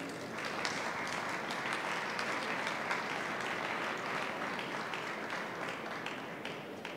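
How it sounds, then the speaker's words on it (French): Audience applause at the EUROBOIS 2018 trophy ceremony, a dense, steady wash of many hands clapping together that holds at an even level throughout with no voices over it. "Vous pouvez partir avec votre trophée et on peut encore applaudir."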